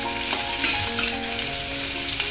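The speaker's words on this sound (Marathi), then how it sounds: "आता याच्यातच आपल्याला जाडसर चिरलेले कांदे घालायचे." Coarsely chopped onions frying in a pan for Nagpuri tarri poha give a strong, continuous sizzle close by, with faint stirring scrapes and no voices.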